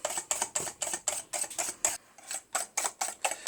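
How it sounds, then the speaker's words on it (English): A whisk beats clarified butter into hollandaise sauce in a bowl, crisp metallic ticking strokes at a steady brisk rhythm of about three per second, with one short pause midway. "as you keep whisking and putting in the clarified butter"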